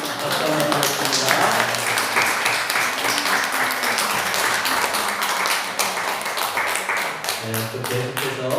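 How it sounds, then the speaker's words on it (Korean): A church congregation applauds during a Sunday worship service, steady moderate clapping throughout, with talking and voices audible under the clapping, especially near the end. "우리 박수 한번 드리겠습니다."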